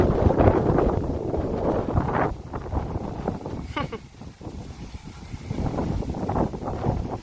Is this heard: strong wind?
yes